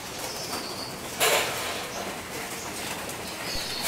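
Racing pigeons crowd a loft, feeding on breeder mix. Soft cooing and shuffling carry throughout, broken by one short burst of wing flapping.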